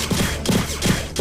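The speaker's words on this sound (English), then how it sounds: "Let's shoot some targets." Rapid bursts of gunfire at targets during shooting training in the farming game My Time at Sandrock, three or four clustered volleys in quick succession, fairly loud and close.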